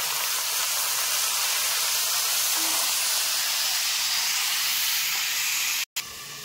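Steady, loud hissing sizzle of vegetables frying in hot oil tempered with fenugreek seeds, continuous throughout with a brief dropout near the end.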